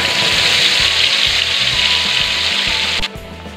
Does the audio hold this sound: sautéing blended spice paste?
yes